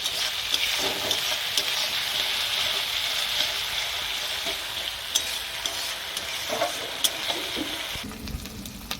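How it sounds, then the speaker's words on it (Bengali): Onion paste frying in a pan for Bengali doi katla, a loud steady sizzle with scraping stirs and occasional clinks, the tone shifting near the end as the pan is moved. "পেঁয়াজটা ভালো করে ভেজে নিই।"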